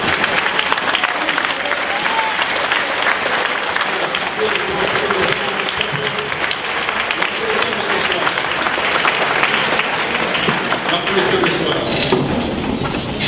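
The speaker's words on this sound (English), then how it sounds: "let's all give them a round of applause" Audience at a football hall of fame ceremony applauds steadily, a dense, continuous wash of clapping filling the hall for the whole stretch, with some crowd murmur underneath.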